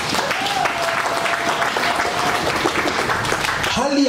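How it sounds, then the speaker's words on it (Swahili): A church congregation applauds, with continuous dense clapping at steady loudness from start to finish and some voices mixed in. "Ipigieni makofi."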